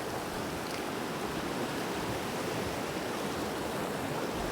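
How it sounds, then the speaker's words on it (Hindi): Cold, clear Himalayan river water flows in a steady, broad rushing hiss, constant and fairly close with no breaks. "नदी सीधी हिमालय से आती है"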